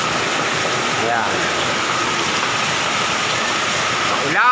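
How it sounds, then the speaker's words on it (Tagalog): Heavy rain at a house, water pouring and dripping through a damaged roof as a dense, constant rushing wash, loud and unbroken throughout. "Tumutulo na yung tubig sa bubong."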